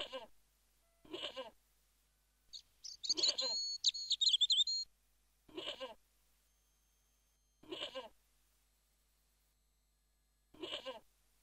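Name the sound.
goat bleating in the video game Broken Sword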